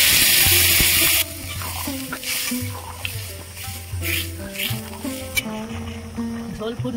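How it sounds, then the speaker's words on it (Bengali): Fish curry broth with potato and plantain bubbles and sizzles in a pan, a soft, steady simmer heard beneath light background music. "ঝোল ফুটছে"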